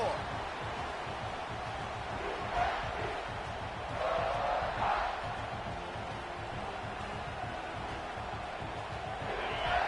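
Stadium crowd noise in the NCAA 26 college football video game, a steady distant roar of fans swelling briefly at moments, with a commentator talking over it.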